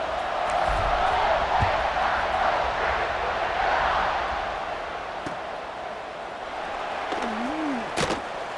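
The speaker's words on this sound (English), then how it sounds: "this crowd now ready to get behind them" A stadium crowd in EA Sports College Football 26 holds a steady, loud roar at kickoff of a college football game, easing slightly partway through, with a few sharp thumps and a brief whistle-like tone near the end.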